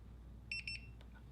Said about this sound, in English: Now you hear the 2 beeps.